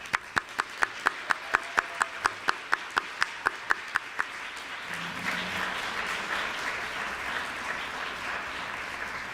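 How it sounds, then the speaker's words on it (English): At a conference keynote, an audience applauds the planning committee: a run of regular, evenly spaced claps gives way to broad, sustained applause from the crowd. "Can I ask members of the Planning Committee to stand and receive our applause?"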